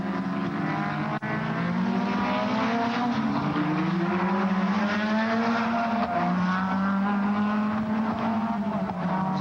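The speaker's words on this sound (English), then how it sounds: "So Dick Johnson, car number 17, stretches it out going down the back straight" Touring race cars at Symmons Plains in 1989, Australian Touring Car Championship, engines droning loudly and continuously at high revs, with pitch shifting as the pack races down the straight.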